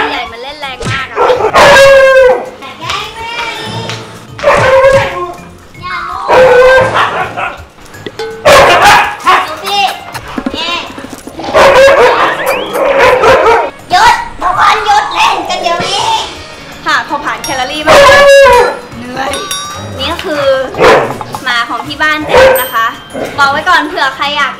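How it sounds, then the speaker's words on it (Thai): Large Siberian huskies play roughly indoors, letting out loud, repeated barks, yips and whimpers in irregular bursts throughout, close and energetic, with a person talking at times. "มันไม่ได้กัดกันนะมันเล่นกันคือหมาตัวใหญ่มันเล่นแรงมากอะ"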